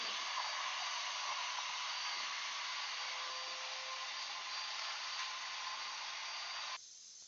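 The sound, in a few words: shop vacuum running through a dust cyclone separator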